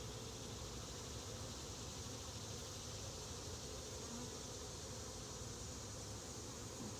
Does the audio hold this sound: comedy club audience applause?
no